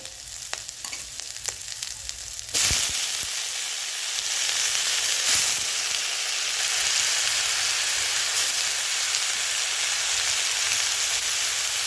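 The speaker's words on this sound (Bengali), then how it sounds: "পেঁয়াজটা একটু লাল লাল হয়ে গেলে দিয়ে দেবো আমি আলুটা।" Potatoes tipped into a pan of reddened onions, a quieter sizzle with clattering stirs that jumps into a loud, dense, steady frying hiss once they land, continuing evenly to the end, close up with no talk.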